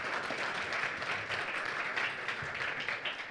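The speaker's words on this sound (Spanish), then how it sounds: "Otro aplauso para Súper, Lucas, gracias." Lively audience applause at a talk event, a continuous wash of many hands clapping at moderate volume with slight swells, and no clear speech over it.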